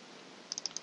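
A quick series of four light, close mouse clicks, sharp and brief, against a faint steady background hiss.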